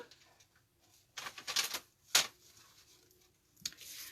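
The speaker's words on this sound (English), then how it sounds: "And let me grab my cutter." A paper cutter trims a sheet of designer paper for a card, a few short sliding, scraping strokes and clacks, close and fairly quiet, with pauses between.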